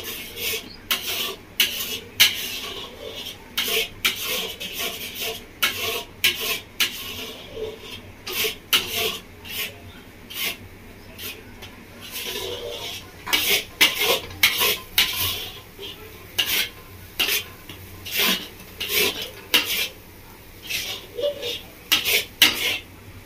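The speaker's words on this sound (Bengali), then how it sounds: "আমি এইভাবে খুন্তিকে নেড়ে একদম শুকনো শুকনো করে নেবো।" A metal spatula scrapes and stirs a thick gulab jamun filling in a pan while it is cooked down until dry. Repeated scraping and clinking strokes come close and steady with no talk.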